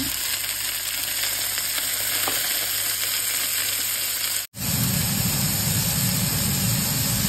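Tomato dropped into a hot pan for meatless pinakbet sizzles loudly and steadily, a close continuous frying hiss broken by one brief silent gap before the sizzle resumes, thicker and lower.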